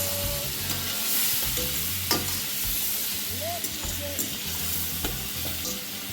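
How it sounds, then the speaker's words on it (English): Steady sizzling of shrimp stir-frying in a hot pan, with occasional scrapes and clinks of a utensil against the metal. "I'm just stir-frying these shrimp."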